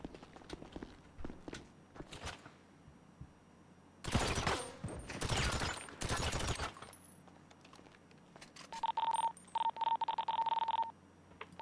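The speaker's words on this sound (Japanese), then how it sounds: "ショットガンで撃ってるな" Shotgun fire in a GTA role-play casino heist against police: three loud, roughly half-second blasts in quick succession, set among quieter scuffs and clicks and followed by a beeping, phone-like electronic tone.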